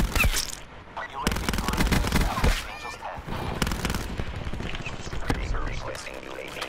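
Burst-fire gunshots from the Daemon 3XB in the video game Black Ops 4 crack in quick clusters amid continuous in-game battle noise, fairly loud and dense, with faint voices mixed underneath.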